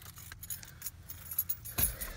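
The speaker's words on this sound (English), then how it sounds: "let me get my keys." Truck keys jangling at close range in a series of light metallic clinks and rattles, with a sharper knock near the end.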